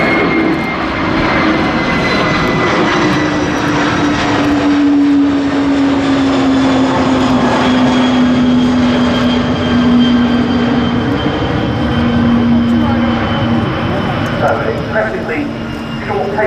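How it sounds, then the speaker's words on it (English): A Kawasaki P-1 maritime patrol jet of the Japanese Maritime Self-Defense Force makes a short takeoff at an airshow, its engine roar loud and steady throughout with a slowly falling whine, while a commentator talks over it. "Impressively short takeoff there from the P1"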